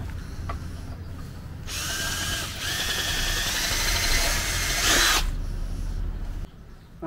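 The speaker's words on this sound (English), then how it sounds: "So literally clean out those bolts, bolt holes as well." Power tool running steadily for several seconds while cleaning out bolt holes on an MGB front suspension during a rebuild, a close, loud whirring drill sound with brief changes in pitch, no talking.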